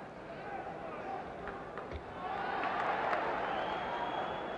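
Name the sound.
boxing crowd ovation for Patterson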